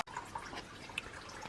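Pink antifreeze drains from the block of a Mercruiser V8 EFI marine engine, giving soft steady dripping and trickling of liquid, fairly faint, with a few brighter drips standing out.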